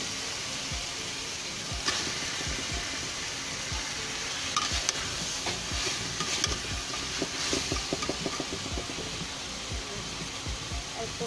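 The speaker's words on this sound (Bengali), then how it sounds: "এখন আমি এর মধ্যে মাছ ঢেলে দেবো, মাছগুলো দিয়ে দেবো।" Shol fish tipped into hot oil and spices in a pan, giving a continuous sizzle with scattered stirring clatters and scrapes of a spoon, moderately close, no speech.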